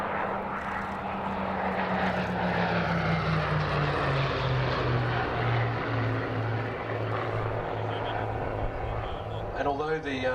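A Hawker Hurricane and a Supermarine Spitfire flying past at the Wings Over Illawarra airshow, piston engines droning loud and steady with a falling pitch as they pass, a voice talking over the roar throughout.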